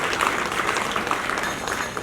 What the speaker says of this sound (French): Je pense que ça mérite des applaudissements pour l'État de Côte d'Ivoire